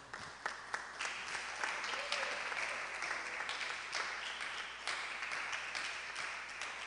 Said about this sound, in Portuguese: Então aplauda o Senhor.